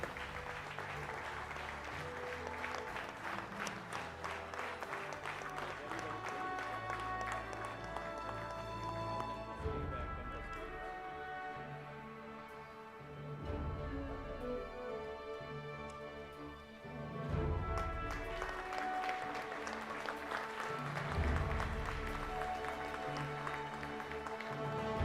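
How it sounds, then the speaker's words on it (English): An audience at a national management convention applauds Mr. Somanath and the ISRO team with sustained, dense clapping that continues throughout, under faint background music. "a huge round of applause for Mr. Somanath and the entire ISRO team"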